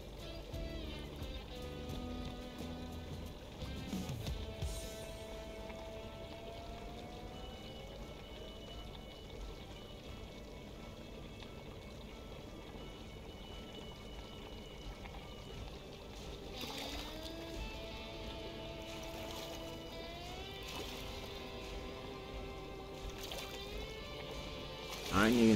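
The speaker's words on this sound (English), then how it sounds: "Rinse parts in hot water." Gun parts are rinsed in hot water in the video game Gunsmith Simulator, with steady running and pouring water lasting throughout, mixed with rising mechanical tones and a soft background hum.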